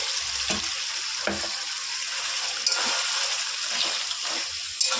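Fried fish head (bhetki) sizzling in a pan as it is stirred and sautéed before cabbage goes in, a steady close frying hiss with scraping stir sounds and faint speech.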